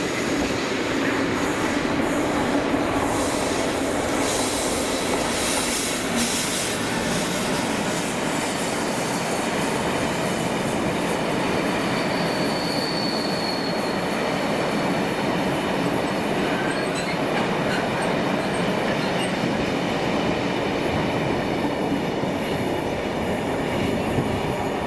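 Class 56 diesel locomotive 56087 hauling an empty aviation fuel tanker freight from Prestwick to Grangemouth, a steady loud rumble of wagons and wheels rolling past close by for the whole stretch, with faint squeals and clatter and no voices.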